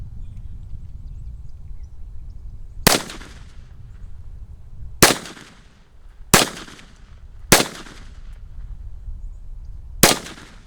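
Five sharp, loud gunshots from a Kel Tec PMR-30 pistol, fired one at a time with irregular pauses of one to three seconds between them, each crack ringing out briefly over a low steady background rumble.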